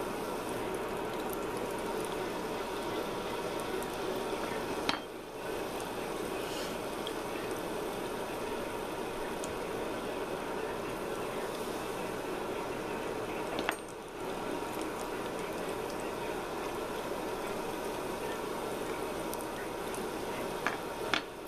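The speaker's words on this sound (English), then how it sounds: "we've got another one in the fryer" A donut fries in hot oil in a fryer, giving a steady, continuous bubbling sizzle with a few faint clinks. It stays close and even throughout with no talking.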